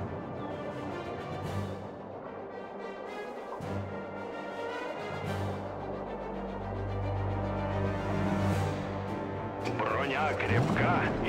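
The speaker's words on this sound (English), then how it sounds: "Listen, roar of the Soviet guns." Deep booming Soviet artillery fire in a World War II strategy video game rumbles continuously, with heavy low thuds and crashes building over a dense, loud battle soundscape with no voices.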